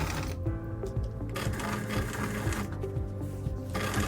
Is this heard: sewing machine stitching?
yes